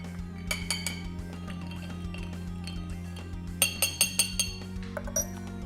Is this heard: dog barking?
no